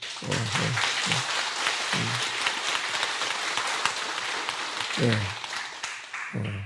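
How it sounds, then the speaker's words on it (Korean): Audience at a Korean Buddhist Seon meditation hall session clapping steadily, with low spoken words breaking through the applause several times. "큰 박수를 한번 치십시오"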